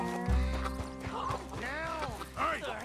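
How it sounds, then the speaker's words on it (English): A horse in Red Dead Redemption 2 whinnies loudly up close, its neigh rising and wavering, with hoof clip-clops in the background and a player talking over it. "Llama a mi caballo. ¡Míralo allá!"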